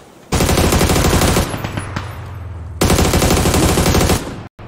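Rapid automatic gunfire from a video game shooter, loud and close, comes in two long sustained bursts separated by a brief lull with scattered single shots, no voices over it.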